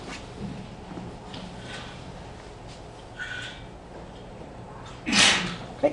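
One sharp sneeze bursts out near the end, after a stretch of quiet room tone.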